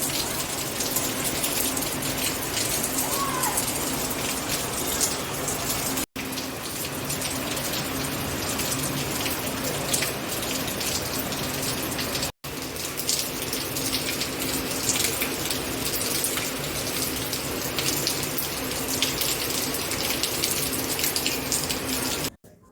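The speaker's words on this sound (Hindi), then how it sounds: "तो दोस्तों हमारे यहाँ बहुत ज़्यादा ही बारिश हो रही है" Heavy rain falls continuously, a dense, loud hiss of drops on surfaces nearby that barely changes throughout, broken only by a couple of very brief cuts.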